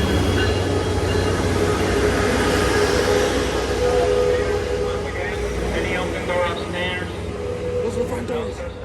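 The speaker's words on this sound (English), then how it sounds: "waiting on the Amtrack Surfliner that's going to take us down to San Diego, and it's about to pull in" An Amtrak Surfliner passenger train rumbles into a station, close and loud, wheels grinding and squealing faintly as it slows, with rhythmic clatter toward the end.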